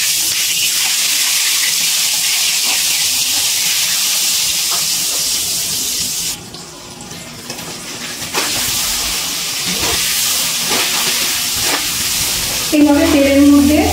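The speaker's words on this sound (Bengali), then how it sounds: "এবার এর মধ্যে আগে ডিমগুলো ভেজে নেব।" Eggs fry in hot oil seasoned with turmeric, Kashmiri chili powder and salt for egg biryani, giving a loud continuous sizzling hiss with brief dips and a few clinks of a utensil toward the end.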